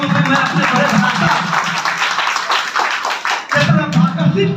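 At an Ambedkar Jayanti gathering for children, an audience claps in loud, dense bursts with a short lull near the middle, and voices are heard mixed in.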